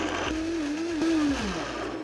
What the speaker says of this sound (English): So I'm just throwing them all into a blender,